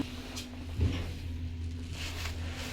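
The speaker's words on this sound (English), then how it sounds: "Doors opening." Lift doors open at the Grosvenor Shopping Centre in Northampton: a single soft thud of the doors parting over a steady low mechanical hum, fairly close, with no talking.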